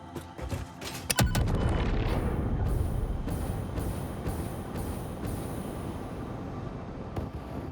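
Explosives detonate in the factory-building video game Satisfactory: a sharp burst of loud booms, then a sustained rumbling roar with repeated blast hits that slowly fades.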